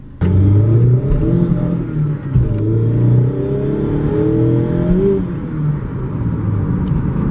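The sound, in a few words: Mazda MX-5 Miata accelerating on the road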